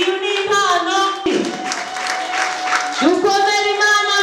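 An audience at a church ceremony claps through the middle of the clip in a dense, steady patter. A voice and tuneful sounds carry over it before and after.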